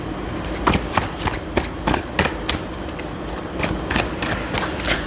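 Tarot cards being shuffled by hand, a rapid run of crisp riffling and slapping bursts, close and fairly loud, continuing steadily throughout.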